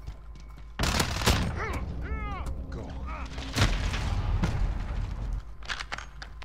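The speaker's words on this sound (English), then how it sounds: "Throwing grenade." In a hardcore Demolition match of Modern Warfare, a grenade is thrown and bursts of gunfire follow, with a loud sudden onset, rapid shots and a second heavy blast midway, while a clipped radio voice talks over the action.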